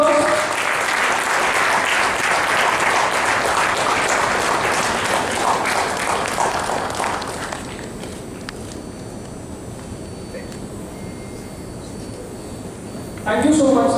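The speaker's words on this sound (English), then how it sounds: "Can we have a round of applause?" A round of applause breaks out at the GUCON 2018 conference at Galgotias University as mementos are handed over, dense clapping filling the room for about seven seconds before thinning to a quieter murmur, then rising again briefly at the end.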